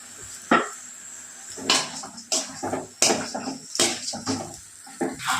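Dosa being flipped on a hot pan during dinner cooking, a run of close metallic scrapes and clatters in irregular bursts, with no talking during these sounds.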